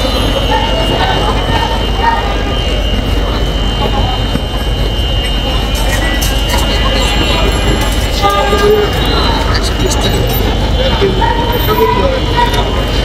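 A train rumbles past a rail crossing in Dhaka amid heavy traffic noise, with a horn sounding and people talking nearby.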